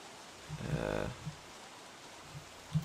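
A beefalo in the video game Don't Starve lets out a single low, drawn-out moo lasting about half a second over a soft rainy hiss, followed by a few faint dull thumps.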